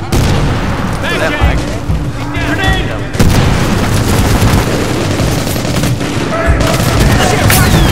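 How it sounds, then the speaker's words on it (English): Grenade explosion in Medal of Honor Warfighter: a loud burst of blast and gunfire hits suddenly mid-clip after steady combat noise, with rapid shots continuing around it and voices in the mix. "Grenade"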